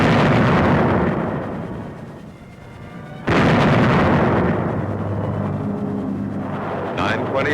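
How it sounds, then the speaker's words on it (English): Camouflaged 105 mm howitzers on gun carriages firing a bombardment, heavy booming blasts with a sharp loud report partway through, over older newsreel-style sound with speech present. "camouflaged 105 howitzers on gun carriages opened up with a bombardment of warning"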